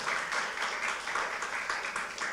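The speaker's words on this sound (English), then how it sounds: "Can we give a round of applause to Pastor Gary?" Church congregation giving Pastor Gary a brief round of applause, a short burst of moderately loud, fairly sparse clapping that stays steady and then begins to thin.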